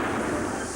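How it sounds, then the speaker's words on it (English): Engine cylinder explosion effect in a BP petrol advert, a dense, loud, booming roar that fills the moment without a break. "It sprays petrol into your cylinder and with your piston creates this explosion."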